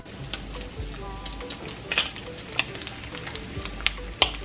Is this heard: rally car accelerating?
no